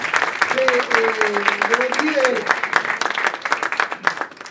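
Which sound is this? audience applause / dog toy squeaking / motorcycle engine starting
audience applause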